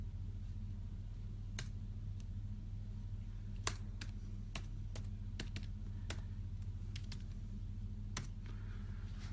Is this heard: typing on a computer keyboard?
yes